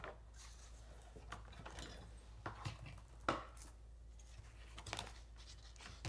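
A blade slicing open the packaging of an Anna Griffin Empress embossing machine, with quiet scattered cuts, scrapes and crinkles arriving as irregular sharp clicks against a near-silent room.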